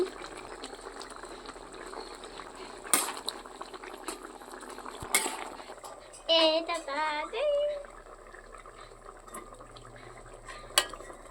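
A masoor dal and egg curry simmers in a pot with a soft, steady bubbling. Scattered utensil clinks and taps occur, and a brief squeaky tonal sound appears midway.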